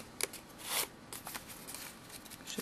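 Paper being folded in half for a 1/12 scale chair craft project, faint crinkling and sharp rustles with a brief louder swish near the start, quiet and close.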